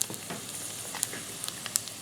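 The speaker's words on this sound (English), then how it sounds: "it's starting to sizzle, so let's drop it in there" Jalapeno bacon wonton poppers fry in hot oil with a faint, quiet sizzle, scattered crackles and pops rising over a low, steady hiss.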